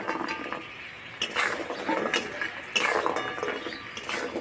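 Fried khasta goja sweets are turned in melted sugar syrup in a pan, producing close metallic scrapes and clinks in irregular bursts that grow slightly busier toward the end.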